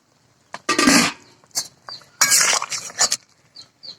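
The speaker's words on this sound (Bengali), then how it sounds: "দশ মিনিট পর আমি ঢাকনাটা খুলে নিলাম" A metal lid comes off a cooking pot of simmering bitter gourd, potato and plantain shukto, making loud close clattering bursts and clinks with short quiet gaps between them.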